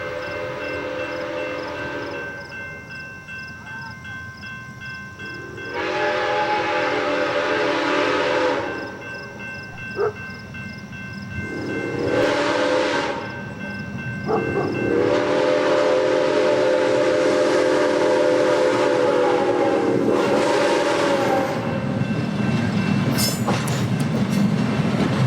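SOO Line 1003, a 112-year-old steam locomotive, passing through Wisconsin countryside, giving several long steam whistle blasts in a rhythmic pattern over a steady rumble of rolling rail cars that swells as it approaches.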